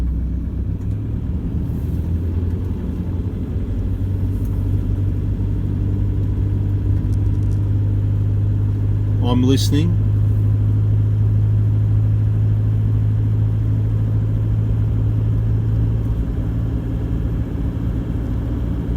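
Steady low diesel drone from a 2014 Toyota Hilux with the 1KD engine and 111k on the clock, driving along a road, loud and even throughout, with one brief spoken remark.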